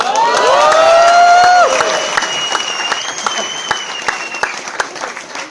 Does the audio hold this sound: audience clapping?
yes